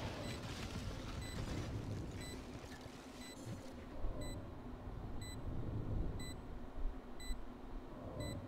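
Repeated short high beeps from a planted spike in Valorant tick at a steady rhythm over a dense, rumbling game soundscape, with distant booms and a few louder thumps.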